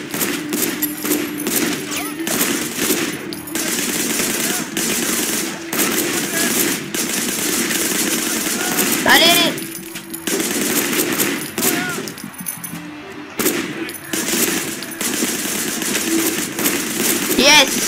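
Loud, sustained automatic gunfire in the video game Sleeping Dogs, rapid bursts pouring out almost nonstop with short gaps, while someone talks over the shooting.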